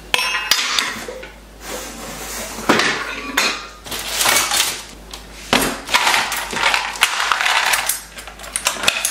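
Small metal pans and kitchen items being handled in a homestead kitchen, with repeated clinks, clanks and rattles of metal and utensils throughout, close and fairly loud.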